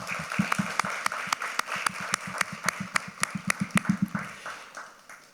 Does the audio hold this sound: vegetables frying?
no